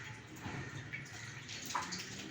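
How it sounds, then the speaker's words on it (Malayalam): Vinegar is poured into a sweet and sour pickle, a soft, continuous liquid splash and trickle heard faintly up close for a couple of seconds. "ഇനി വെനിഗർ ഒഴിക്കുക"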